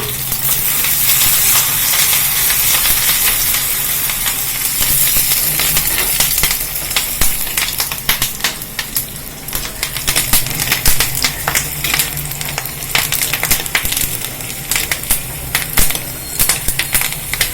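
Curry leaves crackle and sizzle in hot oil while tempering for a bitter gourd and mochai kuzhambu, a loud steady frying hiss that turns into sharper, spattering pops toward the end.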